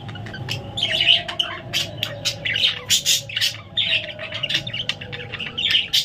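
A bird squawks and chirps in rapid, loud bursts near a nest with eggs, a steady low hum running underneath throughout.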